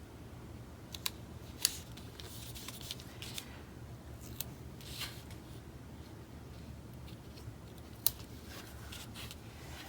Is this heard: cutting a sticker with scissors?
yes